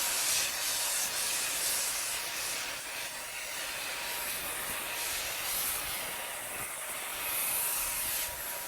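A DipYourCar G4 sprayer lays down PDS peelable base coat in a continuous, fairly loud airy hiss that swells and eases slightly over several seconds.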